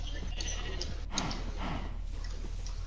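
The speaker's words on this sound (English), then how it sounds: "Get down here, you silly sheep." Sheep bleating in the video game SurvivalCraft, several short wavering bleats over a constant low game hum, fairly close and clear.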